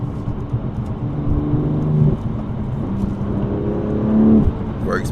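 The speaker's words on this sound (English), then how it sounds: "This has rev match downshift automatically." A BMW F87 M2 Competition engine drones steadily from inside the cabin, then rises in pitch as revs climb and fall during an automatic rev-matched downshift.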